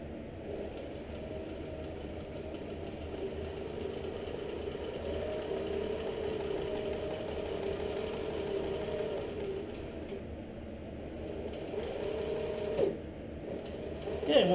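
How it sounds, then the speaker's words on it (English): A sewing machine stitching a backpack, running steadily and close for the whole stretch with a constant whirring drone and brief pauses and speed changes near the end. "we're just going to sew right up to the edge of it and then back stitch it again"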